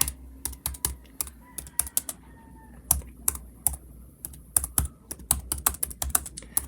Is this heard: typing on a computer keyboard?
yes